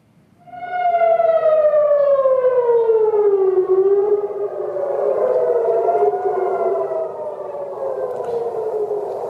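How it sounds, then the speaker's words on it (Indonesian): An air raid siren in Israel warning of an Iranian missile attack wails loudly, its tone sliding down and then rising and falling in a slow, sustained warning cycle. "Sirine tanda serangan rudal Iran memasuki wilayah Israel kembali berbunyi"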